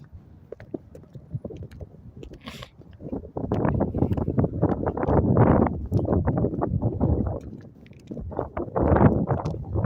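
Gusty wind buffets the microphone during a Friday night winter walk in Stockbridge, Georgia, ahead of a snowstorm, a rough low rumble that swells louder and steadier from the middle onward, with no talking.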